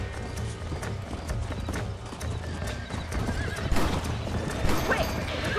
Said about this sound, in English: Ah, horse.